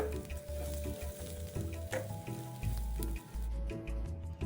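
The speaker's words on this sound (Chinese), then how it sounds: "继续将所有食材与调味料一起拌匀。" Ingredients and seasonings for Hakka preserved vegetable rice are stirred and tossed in a hot pan, giving a loud, continuous sizzle broken by scraping stirring strokes, with no talking.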